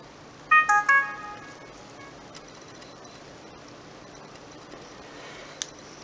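An LG KF300 mobile phone powers off with a short, bright electronic jingle of a few rising tones, then near silence broken by one faint click.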